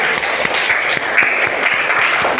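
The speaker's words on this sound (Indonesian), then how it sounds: "Tepuk tangan untuk kelompok 1." Classroom applause for discussion group 1 at an Indonesian teacher-training session, brisk close clapping from a small group with a few sharper individual claps standing out.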